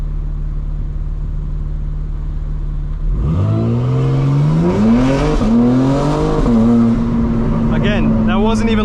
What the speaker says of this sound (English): that wasn't a launch, that was just straight up accelerating